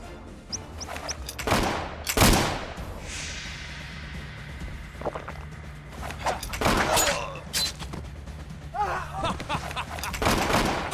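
Gunfire in the naval-era video game Caribbean Legend, with repeated loud sharp shots and bursts scattered unevenly across the span, some close and heavy, others lighter, amid background game noise.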